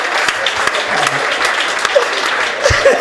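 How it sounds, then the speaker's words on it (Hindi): Audience applause at a Hindi comedy poetry gathering, a loud, steady burst of crowd clapping filling the whole moment with a few scattered voices beneath it. "अब एक बार जोरदार तालियां बजाओ।"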